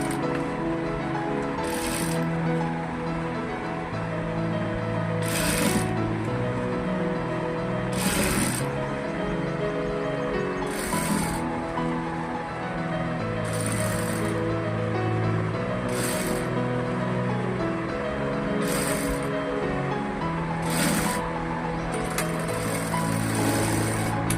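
A sewing machine stitches lace onto a blouse back neck with a close, steady mechanical whir and rattle. Regular brief bursts of sharper clicking break in every few seconds as the needle runs in a double stitch.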